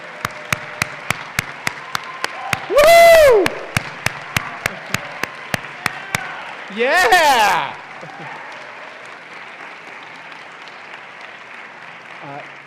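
Two short bursts of crowd applause at an honors convocation rise and fade, separated by sharp intermittent claps, with cheering shouts mixed in and an otherwise quiet room.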